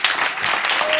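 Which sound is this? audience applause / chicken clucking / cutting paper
audience applause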